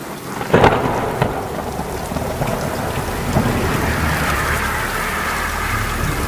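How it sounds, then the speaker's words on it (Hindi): A sharp crack of thunder followed by a low rumble and steady, heavy rain pouring down, with no voices. "जोर की बिजली कड़की और बारिश होने लगी।"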